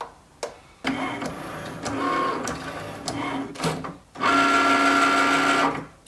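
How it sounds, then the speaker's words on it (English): A Cricut cutting machine runs its print-and-cut calibration, reading registration marks around the edge of a loaded mat: a sharp click, then whirring carriage movements and motor hums of varying pitch, ending in a loud, steady drone. "press the flashing Cricut button and the calibration process will begin"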